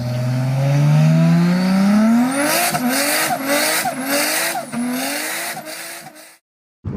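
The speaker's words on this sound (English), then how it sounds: "That is about as good as an engine sound gets." A Porsche 911 992 GT3 engine revs hard through several rising gear pulls and howls up to a shrieking top end. Each upshift brings a sharp drop in pitch. The sound is loud and close and cuts off abruptly at the end.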